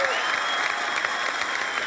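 A Danish talent show audience in a live studio applauds a performer with steady, full clapping and crowd noise throughout, loud and close, with no pauses.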